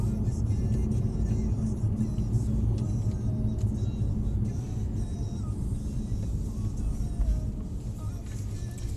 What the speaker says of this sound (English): let these cars come past